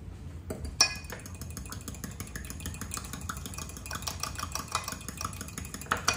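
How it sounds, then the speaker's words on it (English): A fork whisks a raw egg in a bowl for muffin batter, giving a steady run of quick light clinks and scrapes against the dish that grow busier toward the end. "I'm gonna get a fork, I'm gonna mix that up."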